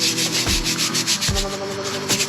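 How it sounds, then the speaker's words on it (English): A brush scrubs blue quartz rocks in repeated rasping strokes, about four close, loud rubbing passes with a steady grinding texture between them, and no voices. "So while I'm scrubbing, I'm going to try to keep talking, and hopefully you can still hear me over the brush."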